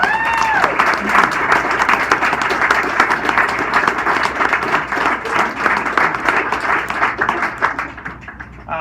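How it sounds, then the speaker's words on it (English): At a senator's year-end celebration, an audience applauds election candidates with sustained, even clapping from a large room, loud and continuous before tapering off at the end, with a brief voice at the very start. "we should give them a really big round of applause"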